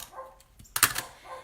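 A dog barks outside, faint and distant, a couple of short sharp barks around the middle with quieter yips before and after, over a soft indoor background.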